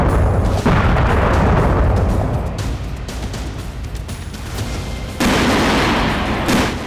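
Heavy explosions from a Russian cruise missile strike on a large Ukrainian army weapons depot in Zaporizhzhia: loud rolling booms and rumbling blasts, with a fresh heavy burst partway through and a sustained roar between the blasts.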